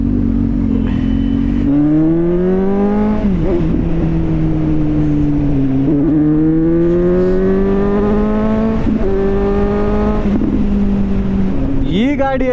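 A car fitted with an aftermarket exhaust and a BMC air filter revs repeatedly, its loud, close engine note rising and falling in several sweeping pulls with a brief crackle at the end.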